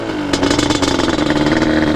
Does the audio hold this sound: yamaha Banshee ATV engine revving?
yes